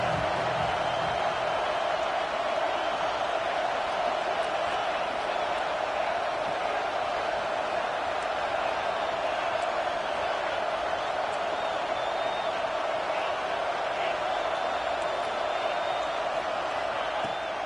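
Steady roar of a stadium crowd in the NCAA 26 college football video game during a USC versus Ohio State matchup, loud and continuous for the whole stretch with no talk over it.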